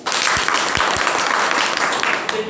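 An audience breaks into applause at a business seminar, a dense steady clapping that fills the whole moment at close range, with a few louder claps at the start.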